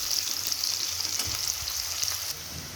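Onions fry in hot oil until brown, making a steady, bright sizzle with a few soft scrapes of stirring. The crackle is close and continuous, then eases a little near the end.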